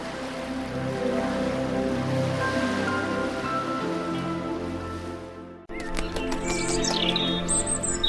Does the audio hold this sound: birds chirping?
yes